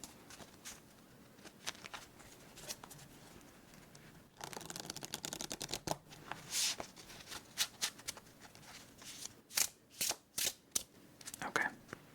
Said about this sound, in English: we'll do one last shuffle.